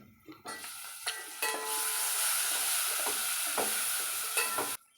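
Tomatoes tipped into a pan of frying onions and curry leaves for a Nellore fish curry, setting off a loud, steady sizzle. Stirring clatters and scrapes sound through it before the noise cuts off.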